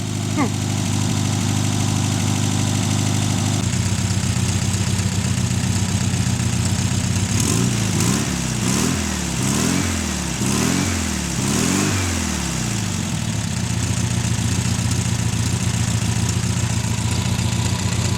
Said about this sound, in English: Been sitting there running on fast idle for about 10 minutes, just waiting on it to run out of fuel